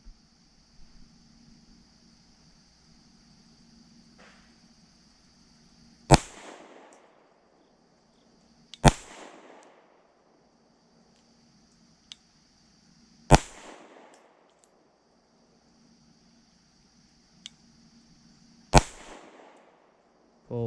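Four sharp, loud pistol shots from a Fusion Firearms XF Pro ring out several seconds apart at a shooting range, each a crisp crack with a short decaying tail over quiet background.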